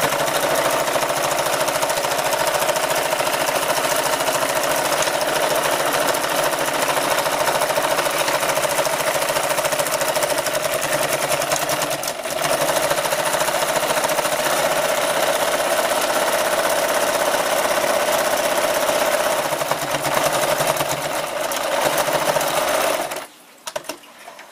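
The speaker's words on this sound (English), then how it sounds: "Now what I'm going to do is run a second row of stitching, just a zigzag stitch to ensure that my stitches don't come out." Sewing machine running a zigzag stitch along a buckskin leather pouch, a loud, steady mechanical whir that holds nearly unbroken for over twenty seconds before stopping abruptly, with no voices.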